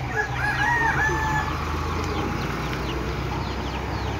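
A rooster crows near the start while chickens cluck around it in a cold, foggy morning yard, the calls fading into a steady outdoor background without talk.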